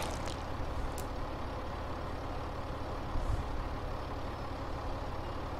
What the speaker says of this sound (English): Turn that tractor off.